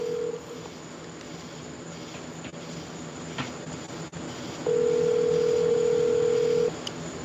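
A telephone gives a short tone at the start and then a long steady ringback tone of about two seconds, over faint background noise.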